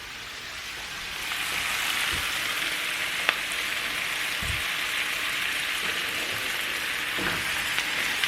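Raw spinach frying and wilting in a hot pan, a steady close sizzle and crackle with a few soft knocks of stirring, no talking.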